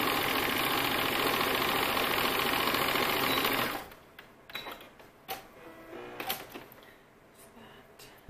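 A sewing machine runs a fast, steady stitching whir for about four seconds while stitching a small curve of fabric into a circle, then stops, leaving light handling clicks and rustles.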